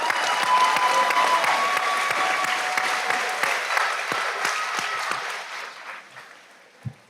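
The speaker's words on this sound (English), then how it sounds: "you guys deserve a round of applause" Graduation ceremony crowd in a large venue breaks into loud, dense applause with scattered cheers, tapering off gradually over about seven seconds to a few final claps.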